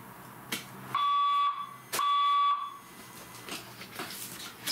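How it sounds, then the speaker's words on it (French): A fire alarm system under test sounds two long steady electronic tones about a second apart, each lasting roughly half a second, with fainter clicks and background room sounds in between and no talk. "Je coupe parce qu'il y a des tests encore d'alarme, de système d'alarme."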